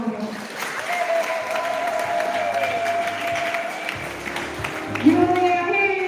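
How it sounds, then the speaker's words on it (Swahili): Congregation applauding at a Catholic thanksgiving Mass held by the women's group of Tegeta parish: steady, dense clapping that fills the church for about six seconds, with voices and tonal sounds faintly underneath and a brief swell near the end. "Naomba makofi yatangulie kwa nafasi ya 1."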